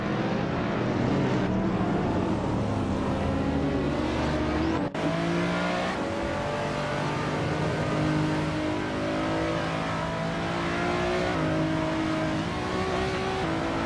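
Racing car engines during a video game race that includes a 2017 Honda NSX, a steady loud drone of several engines revving and shifting through gears, with one car seeming to sweep past midway.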